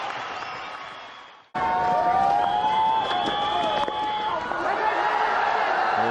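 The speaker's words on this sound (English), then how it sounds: "So big cheer from the crowd." A cricket stadium crowd at a Pakistan versus India match roars in a loud, sustained cheer after a short cut, with a dense wash of voices, whistles and shouts filling the background.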